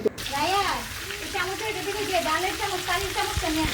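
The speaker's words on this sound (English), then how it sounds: "here you can see our fish is still being fried." Marinated fish fries in a pan, a continuous low sizzle and crackle running beneath steady talking throughout.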